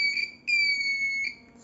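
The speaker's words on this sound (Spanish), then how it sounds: "suena una alarma" A simulated motion-detector alarm from an Arduino circuit in Tinkercad beeps in a high, steady electronic tone, two sustained pulses with a brief gap between them, loud and clean with no speech.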